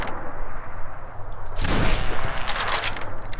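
Rapid gunfire from the hunting video game Deer Hunter Reloaded, a dense burst of shots with a sharp loud crack midway over continuous game ambience.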